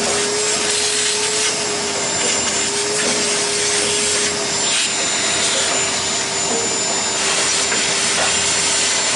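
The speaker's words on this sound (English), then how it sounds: "Grandpa's vacuuming out, like trying to get all the sawdust off of it." A vacuum cleaner roars continuously while removing sawdust from a Woodmizer LT15 sawmill, a loud, steady whine with a constant tone, close by and with no talk.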